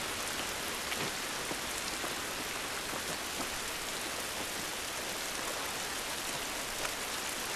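Steady, dense rain falls in The Last of Us Remastered, a constant hiss of drops on surfaces filling the whole stretch without pause, with no one talking.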